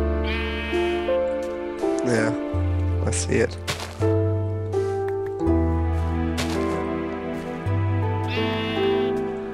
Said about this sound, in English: There's a sheep staring at me